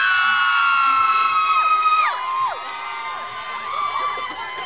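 A large concert crowd screams and cheers loudly with high, sustained shrieks that waver and fade slightly before rising again.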